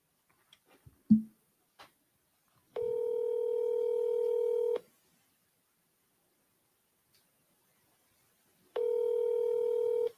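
A phone dialing out to a property seller, with two sustained dial-tone bursts of about two seconds each separated by silence, after a few faint clicks and taps at the start; no talk.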